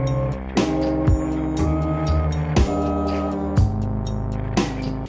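Instrumental backing from a cover plays alone: sustained tonal chords broken by sharp percussive hits roughly every second, loud and close.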